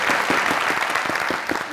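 A studio audience at a Pakistani comedy talk show breaks into brief, dense applause, the steady clapping running throughout with no voices over it.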